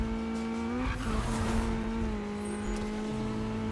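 A car drifts in Need for Speed on PS4 with a sustained engine whine and screeching tire squeal through the slide, loud and continuous.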